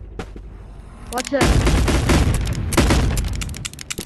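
Gunfire in the video game Animal Company: dense rapid bursts of shots filling most of the stretch, loud and close, with a brief spoken voice near the start.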